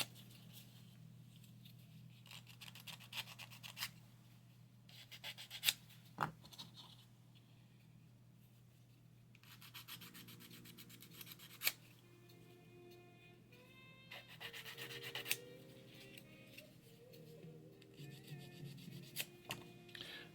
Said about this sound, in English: we'll do a little sanding on these. Get rid of the little nubs that are on there